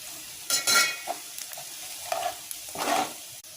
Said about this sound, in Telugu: ఈ టైంలో కొంచెం అల్లం వెల్లుల్లి పేస్ట్ వేసుకొని పచ్చివాసన పోయేంత వరకు కలుపుకోవాలి.